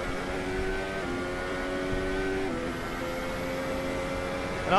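A high-pitched Ferrari SF15-T Formula 1 turbo engine in the racing game Assetto Corsa drones steadily with shifting revs, smooth and continuous, ending in a quick rising whine.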